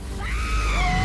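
Audience and judges scream in fear as a trapeze performer falls during a stage act, a sharp high sustained shriek with rising and wavering pitch, loud and close for about a second.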